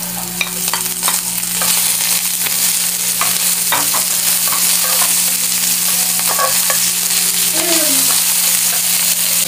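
Strips of dried beef fry with onion, tomato and green herbs in a pan, a steady loud sizzle broken by repeated spoon-stirring scrapes and clinks.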